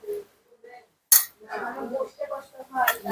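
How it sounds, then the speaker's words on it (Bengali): Utensils clink against plates while biryani is served at a home gathering, bright short clatters near the mic, with people talking through and around them. "আমি এখন বিরিয়ানি বেড়ে দিচ্ছি সবাইকে"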